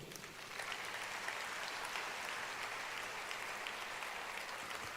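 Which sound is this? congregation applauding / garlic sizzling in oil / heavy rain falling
congregation applauding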